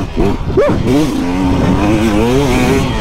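A Sherco 300 two-stroke motocross motorcycle being ridden: the engine is loud and close, its pitch rising in a quick rev and then wavering steadily as it pulls along.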